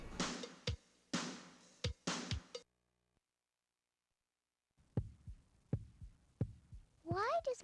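Heartbeat sound effect in educational software, a run of soft, low, evenly spaced thumps after someone speaks and a pause of silence, ending with a rising electronic tone.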